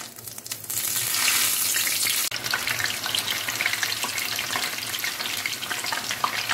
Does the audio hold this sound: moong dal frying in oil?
yes